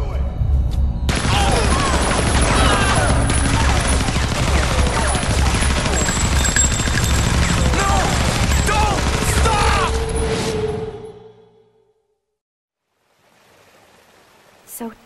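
Sustained heavy gunfire in a Resident Evil Zero cutscene, a dense loud fusillade of rapid shots running for about ten seconds with shouting under it, then cutting off abruptly to near silence.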